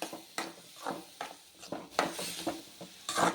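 Garlic frying in oil in a pan for a garlic kulambu, cooked until the oil separates: a spatula scrapes and clinks against the pan in irregular strokes over a soft sizzle, with no one talking.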